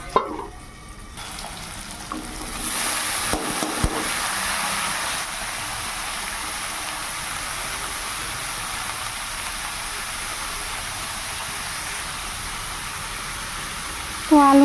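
Potatoes fry in hot oil with panch phoron, dried chilli and a little turmeric, producing a steady, loud, close sizzle after a clatter as they go into the pan. Clanks sound at the start and end.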